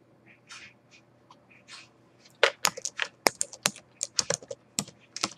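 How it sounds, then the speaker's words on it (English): Someone types on a computer keyboard in quick irregular clusters of crisp, close key clicks, with faint scattered taps beforehand. "I'm sorry, guys, that I'm like typing a lot"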